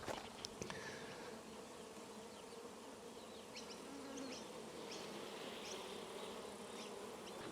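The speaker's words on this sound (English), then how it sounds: "I can take out a whole frame of bees." Honey bees on a frame lifted from a log-style hive give off a dense, continuous buzzing that stays close and steady throughout, with faint clicks early on.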